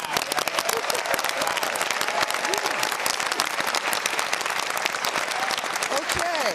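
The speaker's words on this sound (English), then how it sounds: "let's get a round of applause for Pomona College and where we are in this beautiful venue." Dense, sustained applause and clapping from a large audience at a Pomona College event venue, steady and loud throughout with some crowd noise mixed in.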